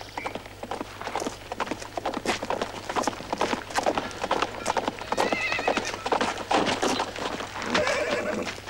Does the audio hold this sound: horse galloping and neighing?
yes